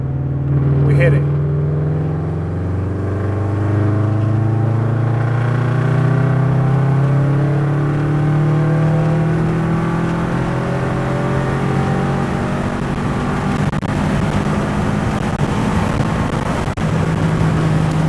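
A Subaru STI with a new exhaust accelerating hard in fourth gear from about 2,000 rpm, its loud engine drone climbing steadily in pitch over a long pull, heard from inside the car.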